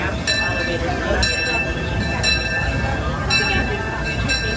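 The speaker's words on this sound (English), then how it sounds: "please stop your train fully seated so this train comes to a stop" A Disneyland Railroad steam train rolls along in the park. The cars rumble and clank continuously, with a bright bell ringing at regular intervals and a conductor announcement over it.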